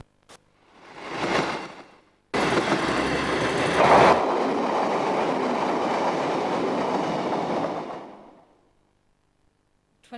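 A train arriving at a station rumbles and rolls past nearby, loud and steady for several seconds before fading, with a brief whoosh beforehand.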